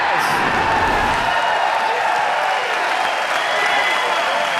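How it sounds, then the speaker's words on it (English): Racquetball crowd at a US Open semifinal between Huczek and Swain, standing and roaring after a tiebreak-forcing point: dense, steady applause and cheering fill the whole clip, loud and close, with no distinct voices. "The crowd is on their feet."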